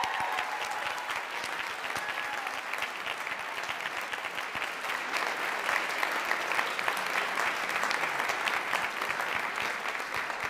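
Sustained audience clapping fills a hall for finalists of a peace oratorical contest, a thick, steady wash of many hands with no voices over it.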